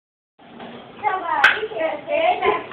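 Hands clap in a few sharp slaps mixed in with children's voices, with one crisp, loud smack standing out among the chatter.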